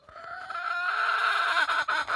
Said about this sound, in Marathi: कशाचा आवाज येतो इथं कोंबडतो का कोंबडा कुठं बसलाय